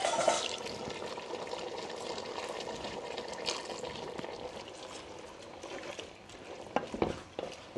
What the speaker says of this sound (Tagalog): Siyempre, lagyan natin ng manamis-namis na Sprite.